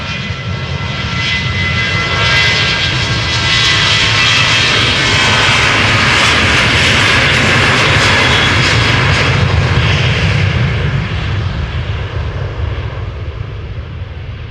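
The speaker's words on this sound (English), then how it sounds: "next up, Boeing 737-800 going to Venezia. KLM flight 1651" A 24-year-old KLM Boeing 737-800 jet, first flown in 1999, on its takeoff roll at Amsterdam Schiphol Airport: a loud, sustained engine roar swelling broadly and holding steady before easing slightly near the end.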